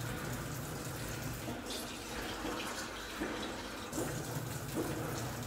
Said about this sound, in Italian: due tazze d'acqua